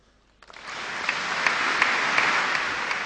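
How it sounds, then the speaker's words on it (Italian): Warm applause for a newly installed bishop in the Treviso diocese cathedral begins abruptly and swells into a broad, steady wash of clapping from a large gathering. "Ed ecco l'applauso caloroso che la diocesi di Treviso attendeva da 51 giorni"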